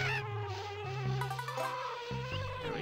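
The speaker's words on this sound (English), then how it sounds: "I can fly as a bee in this one." A buzzing bee flying in a springtime video game level drones with a steady, loud tone that shifts pitch in steps as it moves, continuous across the whole stretch with no talk.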